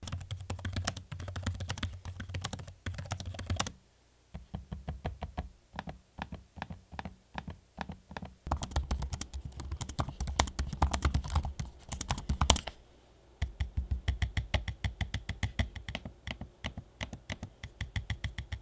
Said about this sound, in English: regarding how loud the keyboard and trackpad are when in use,